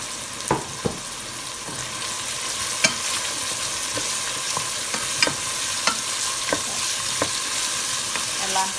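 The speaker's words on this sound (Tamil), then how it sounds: "இப்போ வெங்காயம், பச்சை மிளகாய், கருவேப்பிலை, பெருஞ்சீரகம் எல்லாம் வதங்கிட்டுது" Onion, green chilies, curry leaves and fennel seeds sauté in oil in a pan for Sri Lankan ground-spice chicken curry, a steady close sizzle punctuated by regular sharp spatula taps and scrapes.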